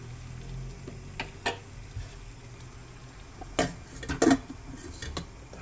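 A fork turns a cob of corn boiling in a pot, giving a few soft metallic clinks and splashes over a low simmering bubble, quiet and close with no voices.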